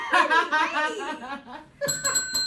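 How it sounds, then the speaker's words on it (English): People talk and laugh, then a small bell rings out several quick bright dings near the end. "There you go. Ringing the bell just for you,"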